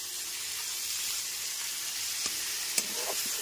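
Ginger-garlic paste sautés with onions in a pan over a low-to-medium flame, giving a faint, even sizzling hiss broken by a couple of small clicks and scrapes, with no voices.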